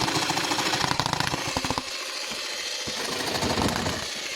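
A Parkside X20V cordless jigsaw runs at its lowest speed setting, its blade buzzing and rattling loudly up close, with a dip and steadier hum partway through.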